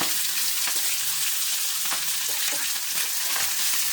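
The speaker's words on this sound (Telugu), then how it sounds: "ఒక పది నిమిషాలన్నా ఫ్రై చేసుకోవాలండి" Nalleru stalks (Cissus quadrangularis) frying in oil for rasam, a steady close sizzle with soft crackles and occasional stirring scrapes, no voices.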